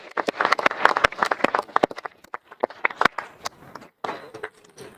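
Audience members at a city council meeting clap in a brief, sparse burst of applause, sharp individual claps close and uneven, thinning out over a few seconds.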